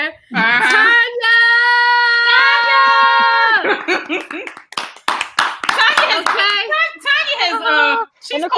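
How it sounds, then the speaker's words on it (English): Clapping with loud sustained whoops and cheers from a small, lively group at a nighttime show, ringing out close and strong before breaking into scattered claps and excited shouting. "The crowd goes wild."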